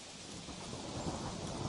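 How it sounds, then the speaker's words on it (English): A thunderstorm with steady, dense rain and deep rolling thunder fills the scene continuously, loud and close, with no voices. "a storm blew in. Big black clouds rolled across the sky, and the thunders shouted"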